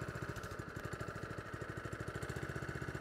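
Camon LA25 petrol lawn aerator running, a rapid, regular chugging engine throb with rhythmic mechanical pulsing, fairly quiet and steady, no voices.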